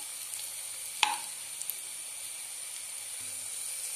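Masala idli pieces fry in a pan with a steady, soft sizzle, broken by a sharp clatter near the start as they are flipped and a faint scrape later on.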